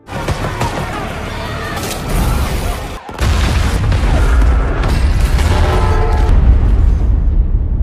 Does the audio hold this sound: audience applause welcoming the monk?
no